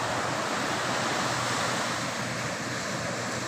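Sea waves wash onto the Karachi shore in a continuous loud roar of surf, with wind buffeting the microphone and no voices.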